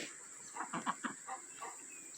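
Ducks foraging in tall seeded grass, a few soft quacks and clucking calls in a short irregular series, faint and close against a steady high background hum.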